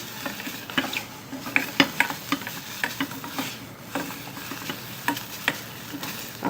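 Vegetables including carrots stir-fried in a pan, with a steady sizzle under repeated scraping strokes and light clinks of a utensil against the pan, close and moderately loud, with no talking.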